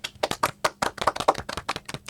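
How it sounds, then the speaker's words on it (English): A brisk round of applause: close, dry handclaps, about fifteen sharp hits in two seconds at an uneven, fast rhythm, with no voices over them. "think that deserves a round of applause."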